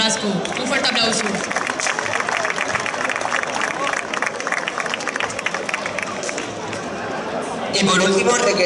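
An audience at the Hoya del Campo 2016 town festival applauds a guest being introduced on stage, dense continuous clapping blended with crowd murmur, swelling again near the end.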